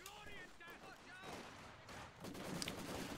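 Maxim machine gun fire in the WWII strategy game Company of Heroes, sustained rattling bursts and battlefield crackle heard faintly under a commentator's talk, growing denser toward the end.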